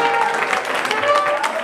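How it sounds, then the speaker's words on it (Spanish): Guests applaud at a quinceañera party with mariachi, a short burst of crowd clapping mixed with voices and some tonal background sound. "Pero fuerte ese aplauso que se escuche."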